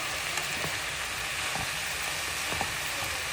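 Broccoli, beans and other vegetables fry in a pan with a steady, even sizzle, joined by a few soft clicks of stirring, close and unaccompanied by talk.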